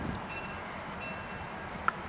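A Southern Pacific F unit diesel locomotive pulling a holiday excursion train rumbles past, a low steady mechanical drone with a brief sharp metallic ping near the end.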